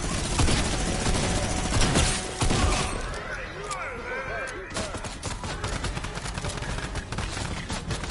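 Fortnite-style game gunfire from Midas's Tommy Gun, rapid bursts of shots crackling close and loud through most of the clip, with voices talking over the shooting.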